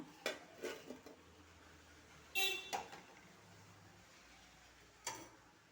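Finger chips drop onto a plate in a few faint, scattered clicks and light taps, with short quiet gaps between them.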